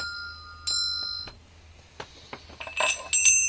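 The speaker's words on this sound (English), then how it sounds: "these are another kind of Tibetan temple bell" A Tibetan temple bell rings with a few clear metallic strikes, each with a short ringing decay, close by and with no talk over it.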